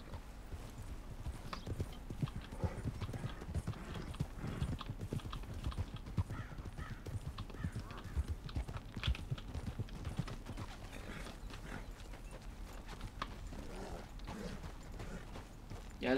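Horse hooves clip-clop at a steady walking rhythm in the Western video game Red Dead Redemption, close and continuous for the whole stretch, with scattered game noises and no voices over it.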